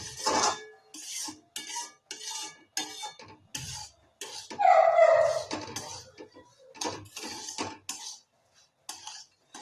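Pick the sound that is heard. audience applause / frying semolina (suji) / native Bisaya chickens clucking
frying semolina (suji)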